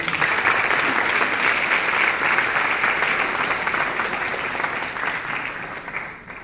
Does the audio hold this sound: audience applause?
yes